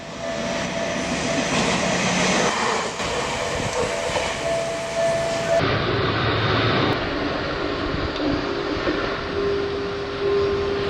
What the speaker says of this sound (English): this train passes in the blink of an eye